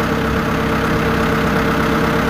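A tractor engine idles loudly and close by, holding a steady, even rumble from start to finish with no pauses.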